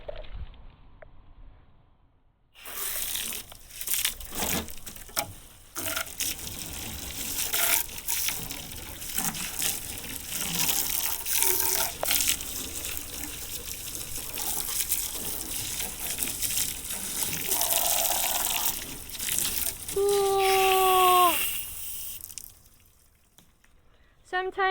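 Water gushes and splashes steadily over bamboo inlay surf fins resting on a vehicle hood outdoors, a continuous pouring wash for most of the stretch before trailing off near the end.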